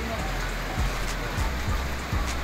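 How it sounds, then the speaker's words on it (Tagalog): Heavy rain pours down steadily around a pigeon loft, a dense constant hiss with a few low thumps underneath, while a voice talks faintly in the background. "Lakas ng ulan."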